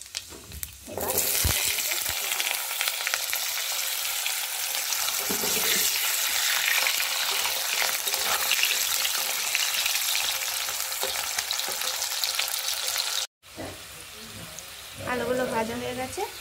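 Potatoes fry with panch phoron in hot oil in a kadai, giving a loud, steady sizzle with occasional stirring clatter. A brief gap comes near the end, followed by some softer movement and a short burst of voice.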